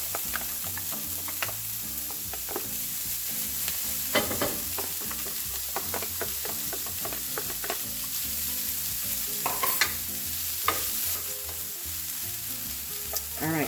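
Cauliflower rice stir-frying with wilted green onions in a pan, a steady sizzle broken by repeated scraping stirs of the utensil, close and continuous with no talking.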